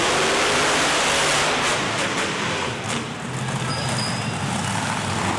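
Monster trucks race side by side down a straight-line drag track at an indoor arena event, a dense, loud, continuous engine roar with broadband rumble and crowd-like wash throughout, no speech.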